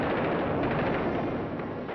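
A dense, continuous rumble of World War II artillery bombardment, a steady loud roar of overlapping blasts throughout with no gaps or voices.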